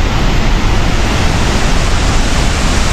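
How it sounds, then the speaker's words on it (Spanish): Salto Candelas, the tallest waterfall in Boyacá, Colombia, pours with a loud, steady, close roar of rushing water that fills the whole stretch without a break. "Miren la fuerza que tiene la cascada."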